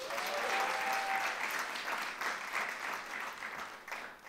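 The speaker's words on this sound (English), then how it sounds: "they are applauding because those leaders are extraordinary as teachers and extraordinary as writers" Audience applause at a literary workshop's opening keynote, a dense, steady wash of clapping that holds loud throughout and tapers slightly at the end.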